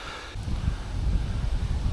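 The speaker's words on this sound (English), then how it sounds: "Now, from out of nowhere, we've got strong winds." Strong gusting wind outdoors at a riverside fishing spot, rising suddenly after a quiet start into a steady low roar buffeting the microphone, with leaves rustling.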